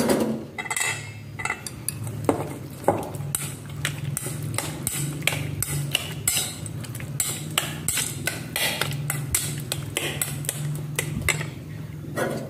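A spoon stirs meat with raw papaya juice in a metal pot, producing rapid, irregular clinks and scrapes close up and fairly loud, with a low steady hum underneath.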